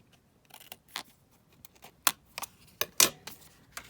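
Card is cut for a belly band, with sparse, close snips and crisp clicks scattered irregularly over a quiet background, a few sharper cuts standing out.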